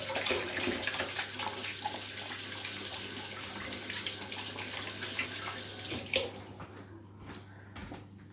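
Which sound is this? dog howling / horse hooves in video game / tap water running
tap water running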